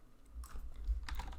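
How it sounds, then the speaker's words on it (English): Rapid clattering keystrokes on a computer keyboard while entering code, a quick close-up burst of clicks over a low background hum. "And we do this by typing in"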